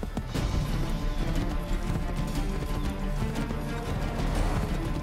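Hooves of a galloping horse pound rapidly and continuously in the video game Assassin's Creed 3, loud and close, with a whinny mixed into the rhythmic clatter.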